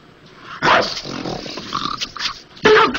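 A dog growls and snarls up close in short rough bursts, with a louder outburst near the end, in a comedic dubbed scene.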